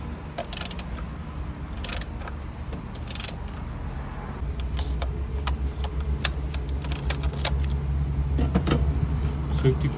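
Metallic ratcheting and clicking of a long-socket wrench loosening a car spark plug, with scattered clanks over a low background hum.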